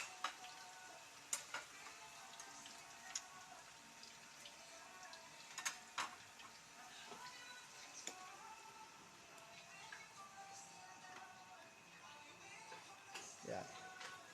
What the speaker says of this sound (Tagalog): Patatas, tapos gigisahin na mga sibuyas at bawang. Ginigisa na.